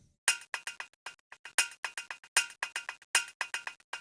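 A small clinking, glassy percussive sample layer called Perky Nibbles, run through a 16th-note stereo delay and light Valhalla reverb, plays quick bursts of bright taps with short echoing repeats in a grooving pattern, faint and alone.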